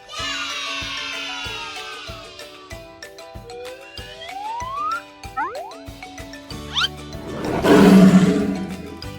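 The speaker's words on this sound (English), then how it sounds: "It's a lion!" A lion gives a loud, rumbling roar near the end, after a stretch of playful music with sliding whistle-like tones.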